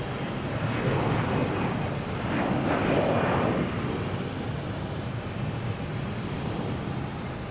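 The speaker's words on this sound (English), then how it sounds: "we got a Delta heading to Atlanta, an A321. And that last Delta, though, just took straight up." Delta Airbus A321 airliner climbing steeply after takeoff from Boston Logan Airport, a loud broadband engine roar that swells around the middle and then eases, with wind buffeting the microphone and no talk.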